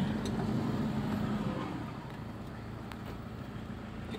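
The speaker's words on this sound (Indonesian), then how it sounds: "kita masukin gigi 2, lepas gas. Nah, lepas gas aja udah jalan sendiri" A Toyota Fortuner rolls along in second gear off the throttle, its engine a low steady rumble with road noise that drops quieter partway through as it coasts.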